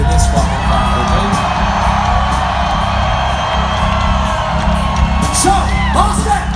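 Big arena crowd at a rock concert at the Xfinity Center in Mansfield, Massachusetts, whooping, yelling and cheering in a loud, continuous roar with scattered shouts rising above the mass of voices.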